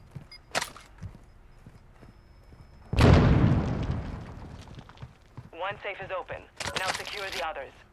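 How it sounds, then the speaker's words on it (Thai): Explosions in Warzone 2.0 gameplay: a heavy, loud blast bursts in at about three seconds and rumbles off over a couple of seconds, with a sharp crack just before it, and someone talks excitedly over the later part. "ระเบิดระเบิดระเบิด"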